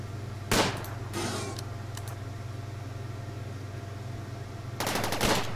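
Charge rifle fire in the RimWorld video game, a Desert biome skirmish: a short burst near the start and a louder rapid rattling volley near the end, over a steady low hum, with no talk.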